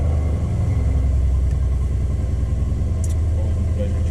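Mercedes-AMG C63 S coupe engine starting cold, a deep, loud, steady rumble at close range that holds throughout with little pause.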